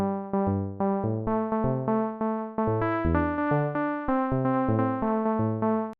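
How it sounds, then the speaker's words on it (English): Simple melody played on an Arturia Prophet 5 synthesizer: a clean, bright series of plucked-sounding notes with a bass line underneath, stepping evenly for about six seconds with no talking. "So I've created this melody, simple melody, in the Prophet 5 from Arturia."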